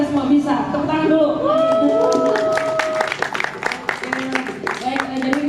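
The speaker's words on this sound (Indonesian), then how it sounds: "Tepuk tangan dulu." An audience at an architecture student event claps and cheers, a dense patter of hands rising under voices in the room, with people talking throughout.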